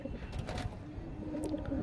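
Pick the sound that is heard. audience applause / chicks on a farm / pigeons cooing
pigeons cooing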